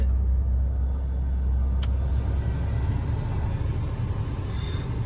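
Motorbike engine rumbling steadily while riding on a hot highway at around 60 km/h, a loud continuous low drone mixed with wind buffeting, with no talk.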